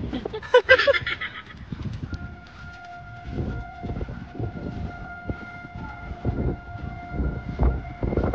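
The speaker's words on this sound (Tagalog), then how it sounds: "Sakay sila ng train" A ride aboard a train in Japan, with a rumbling carriage, sustained steady tones and scattered knocks and clatter throughout, plus a brief shrill burst near the start.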